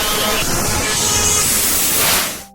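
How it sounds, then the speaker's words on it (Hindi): Radio static from a truck radio that picks up no station, a dense steady hiss and crackle running without pause and then cutting off abruptly at the end. "उसने रेडियो ऑन करने की कोशिश की, लेकिन सिर्फ स्टैटिक की भनभनाहट सुनाई दी।"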